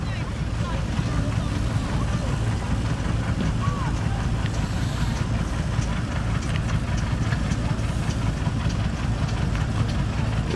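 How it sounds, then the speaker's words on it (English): A small single-cylinder vintage stationary engine runs steadily at an old time rally, a dense, continuous low chugging thrum close by with outdoor wind and faint voices around it. "Nice little single-cylinder engine, a popular mark for Evelyn,"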